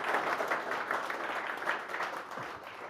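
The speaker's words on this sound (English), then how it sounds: "May I suggest a round of applause?" Applause from an audience after a keynote at a seminar on Russia rises as a steady, moderately distant patter of many clapping hands that fills the room for the whole stretch.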